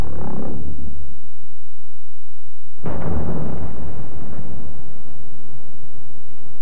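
A V-1 flying bomb (doodlebug) explodes on archive wartime film of raids on southeast England: a sudden loud, heavy blast near three seconds gives way to a long rumbling roar that slowly fades, following an earlier low rumble.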